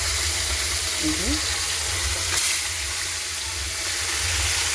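Greens frying in oil in a home kitchen, a steady broadband sizzle that runs unbroken and close throughout, with a faint brief clatter partway through.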